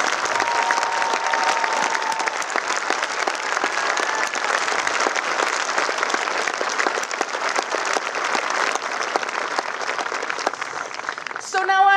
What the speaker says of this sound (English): Mrs. Ruth Stark, would you please stand so that this community you call home can honor you with a round of applause.